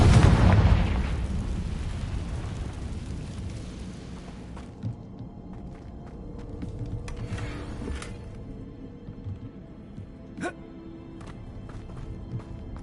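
A Confringo blast spell in a Harry Potter video game erupts in a loud, booming explosion that rumbles and decays over several seconds, followed by quieter ambient game sounds and a few small pops.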